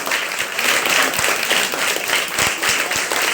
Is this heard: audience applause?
yes